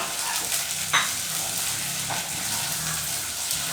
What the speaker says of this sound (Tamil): இந்த வெண்டைக்காவை வந்து ஆனியனோட சேர்த்து வதக்கணும் கொஞ்சம்.